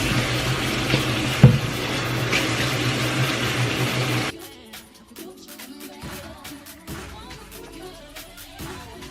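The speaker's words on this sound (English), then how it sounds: "before I ever touch my skin, I need to wash my hands" Hands are washed under a running tap: a steady, moderately loud rush of water that stops abruptly about halfway, leaving quiet rustles and faint clicks.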